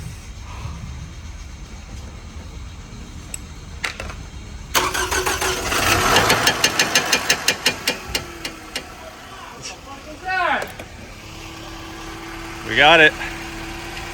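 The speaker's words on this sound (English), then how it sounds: "First start after engine overhaul." A Toyota engine cranks and fires for its first start after an overhaul with new piston rings, catching into a rough, pulsing idle, then revving twice, close and loud in a workshop while a person speaks briefly.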